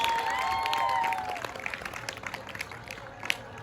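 A school crowd at a National Science Day event applauds the winning Mahanadi House, a dense burst of clapping with a few tonal whistles or cheers early on that gradually thins and fades.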